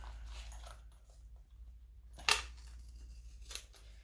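Scissors cutting around fabric lining for a sewing project: a sharp, close snip stands out, with a fainter cut a moment later against quiet background noise.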